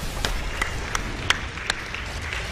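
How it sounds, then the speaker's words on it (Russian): Scattered, sparse claps over a low background murmur at a Dota 2 Star Champ match, a handful of distinct hand claps at irregular intervals rather than full applause. "Тим Шакира, аплодисменты!"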